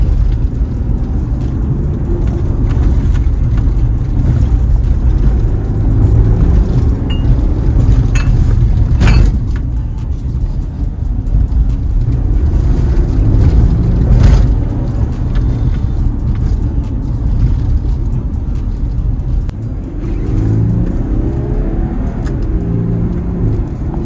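Tuned 2014 Porsche Cayenne V6 diesel with a Superchips stage 1 ECU remap, a continuous deep cabin rumble of engine and road noise while driving, with occasional knocks and slight swells in load.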